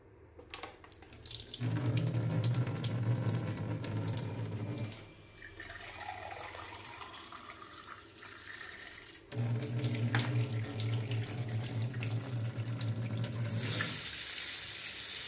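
Water running steadily from a Stiebel Eltron Fountain filter tap, a loud continuous gush in two long bursts separated by a quieter trickling stretch, with no talk.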